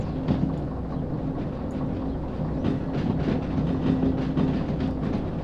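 A train rolls along rails in the Derail Valley simulator, a steady rumbling drone with faint rhythmic clicks over the track, moderately loud and continuous with no talk.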